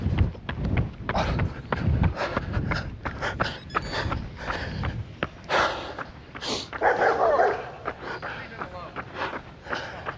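Dogs bark in short, repeated bursts amid a busy, noisy scene, with loud clattering and movement close by and a voice heard at times.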